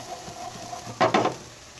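Chickpeas stirred in a pan while roasting for beef parda pulao, a soft low sizzle broken by a couple of close scraping, rattling stirs near the end.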